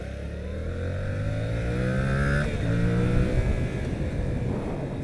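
A Yamaha motorcycle, a TMAX 530 scooter or 2021 MT-07, is ridden with a steady engine drone that rises in pitch as it accelerates, then shifts and continues, heard up close without talk.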